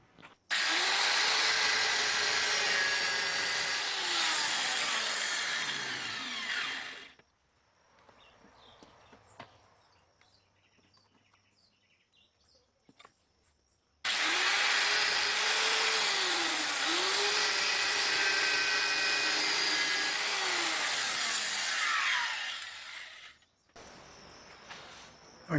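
A power cutting machine slices a metal tube for a chain-link fence coil support, two long loud grinding bursts with shifting whine, separated by a quiet gap with light clinks, close up.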